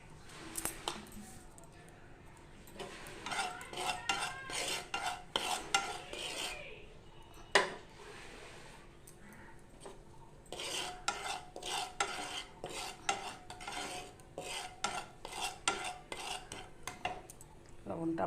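Salt is dry-roasted in a pan for a red chilli pickle, with a spoon scraping and clinking against the pan in irregular bursts, close and fairly quiet.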